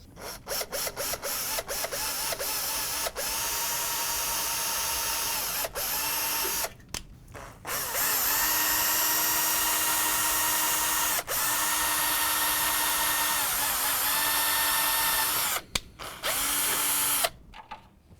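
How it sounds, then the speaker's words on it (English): A power drill bores holes into a case, its steady high whine running in long sustained passes broken by brief stops and a few sharp ratcheting clicks at the start, close and loud. "Need to drill the holes though."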